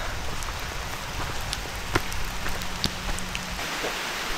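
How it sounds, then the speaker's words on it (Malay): Steady rain patters on surfaces along a slippery hillside trail up Penang Hill, a continuous wet hiss with a few sharper drips, close and moderately loud with no talking. "Walau cuaca hujan"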